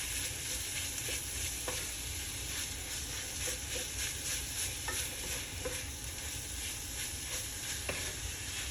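Garlic and vegetables sizzle steadily in a pan while being stirred for a vegan shepherd's pie, a continuous frying hiss punctuated by occasional scrapes and clicks of the utensil, no speech.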